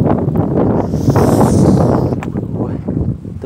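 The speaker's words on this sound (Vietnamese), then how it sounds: "Ở đây ngoài này gió to quá." Strong wind gusting outdoors, a loud, steady roar buffeting the microphone for the whole stretch, with rumbling low gusts that swell and ease slightly toward the end.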